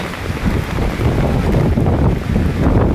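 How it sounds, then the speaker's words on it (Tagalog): Strong, steady wind roars and buffets the microphone, with a low rumbling gust noise throughout and no voices. "Ang lakas ng hangin."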